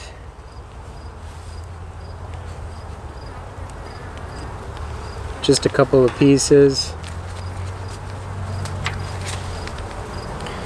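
Honey bees buzz around an open hive while a beekeeper adds supers, a soft, steady hum under close handling noises and a brief burst of clacking as frames or comb are moved. Someone speaks briefly.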